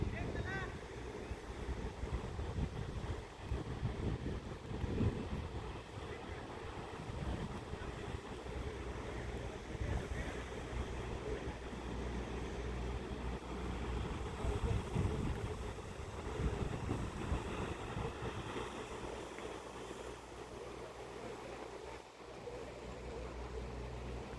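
Sea waves surging against the rocky foot of Kasheli ghat on the Konkan coast, a steady rumbling wash with heavy wind buffeting the microphone throughout, continuous and fairly distant without distinct individual crashes.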